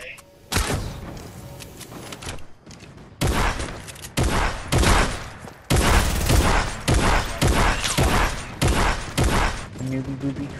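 Bursts of infantry rifle gunfire from the video game Fortnite crack out in repeated loud volleys of rapid sharp shots, separated by brief pauses, while a player talks over the action.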